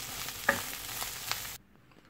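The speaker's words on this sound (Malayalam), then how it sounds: "രണ്ടും കൂടി ചേർത്ത് നന്നായിട്ട് ഇളക്കുക" Clam meat with green peppercorns sizzles softly in a frying pan while being stirred, with a brief scrape and faint crackle before the sound cuts off.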